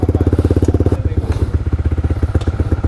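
A motorcycle engine runs close by in the rain, a loud rapid pulsing chug with a short stutter near the middle before it settles back into its steady beat.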